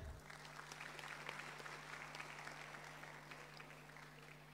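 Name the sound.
applause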